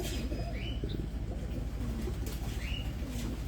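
Pigeons coo softly from a rooftop loft in Abu Dhabi, with low, repeated burbling calls over a constant outdoor hum.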